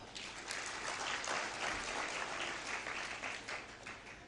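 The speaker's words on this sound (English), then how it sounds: "So clap for yourselves now." A graduation crowd at a national polytechnic claps for themselves, producing steady, dense applause from many hands that holds at an even level throughout, with no voices.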